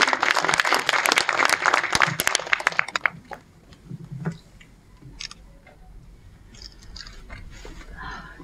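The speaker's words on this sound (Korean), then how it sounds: "큰 박수 부탁드립니다" Audience applause at a literary museum opening ceremony in Geochang as a poet takes the stage, a dense burst of clapping for about three seconds that quickly dies away, leaving scattered faint claps and room noise.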